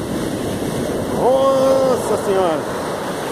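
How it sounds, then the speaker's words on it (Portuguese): Ocean waves break on a beach at Itapema, Santa Catarina, as a loud, constant roar with wind buffeting the microphone, while a person speaks briefly over the surf. "Meu Deus do céu, o tamanho da onda."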